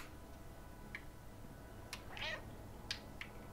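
A player-controlled cat in the video game Stray gives a couple of short meows over a steady game backdrop, with faint ticking clicks scattered around them.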